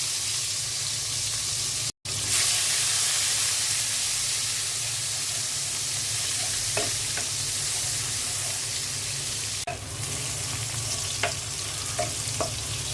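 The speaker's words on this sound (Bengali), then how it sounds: "মাছ ভাজা তেলের মধ্যে আমি পেঁয়াজ দিয়ে দিচ্ছি।" Onions fry in oil left from frying fish, giving a steady, loud sizzle and hiss throughout with occasional soft stirring clicks and one brief dropout.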